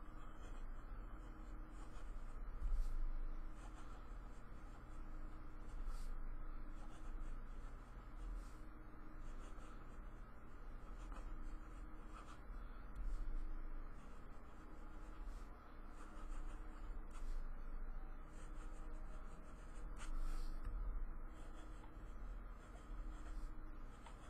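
Faint, scratchy strokes of a fountain pen with Lexington Gray ink writing on Clairefontaine Triomphe paper, soft irregular scratches close by over a low steady hum, no talk.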